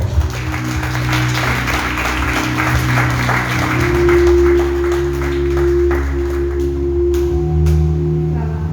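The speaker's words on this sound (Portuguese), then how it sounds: "Vamos aplaudir Jesus bem forte" Church congregation applauding together during a service, a steady dense wash of clapping that holds for the whole stretch, with a sustained organ or keyboard tone sounding beneath it.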